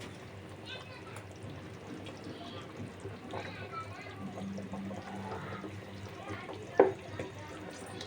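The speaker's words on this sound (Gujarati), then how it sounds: "હવે આપણે એડ કરીશું ક્રીમ." Cream pours into a thick desi chicken curry gravy in a pan, a soft, steady liquid flow under low kitchen background noise.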